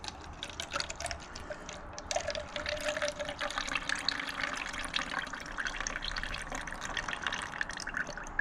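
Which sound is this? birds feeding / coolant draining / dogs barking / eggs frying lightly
coolant draining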